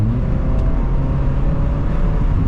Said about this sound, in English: The engine's really rattly.